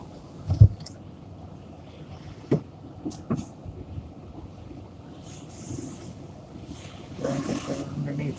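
An automatic car wash sprays water up under a car's engine and transmission, a steady hissing rush that swells loud and close near the end, with a few thumps earlier and faint talk.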